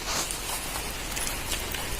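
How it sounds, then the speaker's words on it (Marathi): Light rain starting to fall on a rice field during sowing patters softly and steadily, with occasional distinct drops ticking against a surface. "मित्रांनो पाऊस पडायला सुरुवात सुरुवात झालेला आहे"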